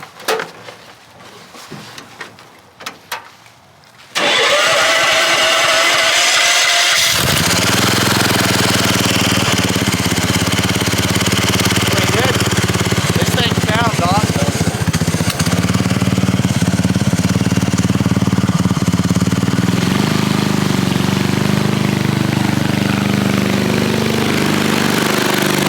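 A half-scale NASCAR engine with a worn clutch fires up after a few knocks, then runs loud and steady with a rough, grinding mechanical roar that lasts throughout.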